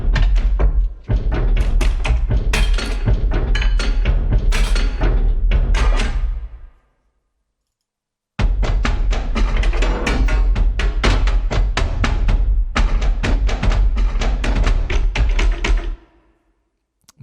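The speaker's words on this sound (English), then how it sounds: "Found metals." Found metal percussion from the Damage Machina sample library: loud, close, dense bursts of clanging, tapping and thudding metal hits in two long runs separated by a short silence.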